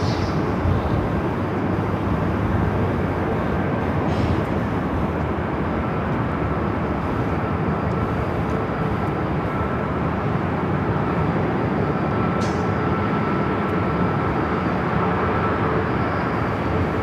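A Qantas Airbus A350 taking off at Los Angeles International Airport, a steady, loud broadband jet roar that holds throughout with no pauses.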